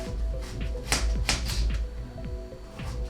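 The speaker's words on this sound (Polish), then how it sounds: "a my dalej bierzemy się za krojenie selera" A knife chops celery on a cutting board in quick, uneven taps, a few sharper strikes standing out, with a low hum underneath.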